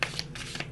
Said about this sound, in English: Just trying to shuffle the cards.